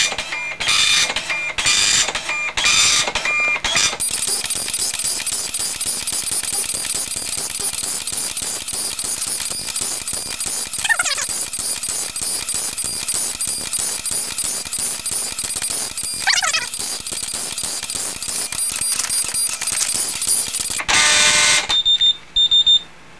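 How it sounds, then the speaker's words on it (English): An Epson FX-86e dot matrix printer chatters and buzzes continuously in rapid mechanical bursts, loud and close, with short pauses at the start and end. "You only got one printer, so it's going to print that off."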